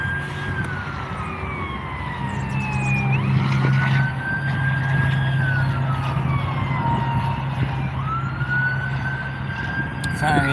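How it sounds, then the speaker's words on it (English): A fire engine siren wails and yelps in rising and falling sweeps as the truck passes nearby, its engine rumbling underneath against outdoor background noise. "Fire engine rushed somewhere."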